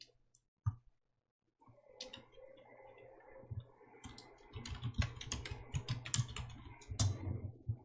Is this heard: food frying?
no